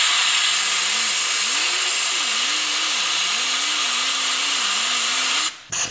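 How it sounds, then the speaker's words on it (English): Die grinder with a coarse polishing attachment working the inside of a cast band ring, a loud steady high whine with the motor pitch wavering up and down throughout, cutting off abruptly near the end. "I'm going to use a die grinder to do the inside."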